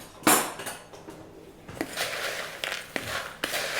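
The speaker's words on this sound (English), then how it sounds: "Add your marshmallows in. Give it a little stir around with a spoon." A spoon stirs marshmallows through chopped chunks and crumbs in a bowl, giving a handful of soft scraping knocks and clinks spaced irregularly, close and fairly quiet.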